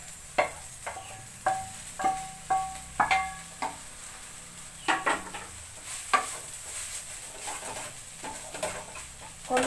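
Spatula stirring fried egg into dhekia fern greens in a pan, with irregular close scraping clicks and taps over a soft sizzle, busier at the start and thinning toward the end.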